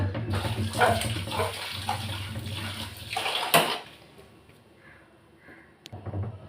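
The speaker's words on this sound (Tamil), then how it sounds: "இப்போ வந்து நான் சட்டியில் புளியை கரைச்சி வச்சுக்கிறேன்." Tamarind being dissolved in water in a cooking pot, a close sloshing and splashing of liquid with a few sharper bursts, then quieter trickles and faint handling noises near the end.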